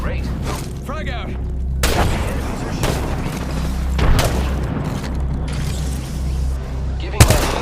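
In the Apex Legends video game, frag grenade explosions go off amid combat, several sharp loud booms punctuating a busy mix of mechanical game sounds and clatter.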